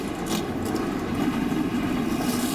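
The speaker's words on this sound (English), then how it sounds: "what a sweet sound when you hear the engines roar at Indianapolis Motor Speedway" IndyCar race car engines idle and rumble together at Indianapolis Motor Speedway, a dense, continuous low roar with a faint buzzing edge, heard from a distance and without voices.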